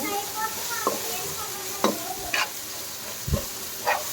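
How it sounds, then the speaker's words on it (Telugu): Ginger garlic paste frying in oil for chicken curry, a steady close sizzle broken by several sharp scraping stirs of a spoon against the pan at irregular intervals. "అల్లం వెల్లుల్లి పేస్ట్ కూడా బాగా మంచిగా పచ్చివాసన పోయేదాకా వేసుకొని"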